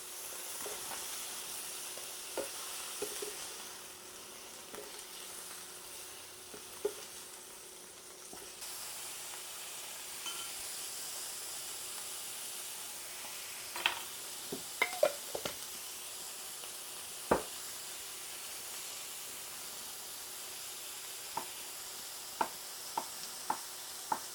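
A second batch of pork pieces fries in a pan with a steady, soft sizzle, broken by occasional sharp clicks and taps from stirring or turning the meat.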